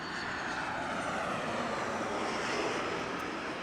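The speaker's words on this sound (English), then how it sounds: "1466 heading over to MSY New Orleans, and this is gonna be an Airbus A320." An Airbus A320 airliner bound for New Orleans makes a steady, distant engine roar at Las Vegas Harry Reid International Airport, heard faint and unbroken throughout.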